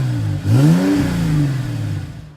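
A 2013 Mercedes C350 with a 3.5-liter V6 revs once, its engine note climbing sharply and then sliding back down over a couple of seconds.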